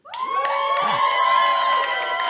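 Applause and cheering from a comedy show audience fill the room for a couple of seconds, loud and sustained and mixed with crowd shouts.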